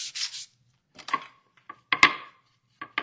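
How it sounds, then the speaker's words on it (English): Sandpaper rubbed over a rough wooden piece to smooth it, heard as several short, dry scraping strokes close by with pauses between them and no speech. "I'm going to take a little bit of sandpaper and just make sure it's"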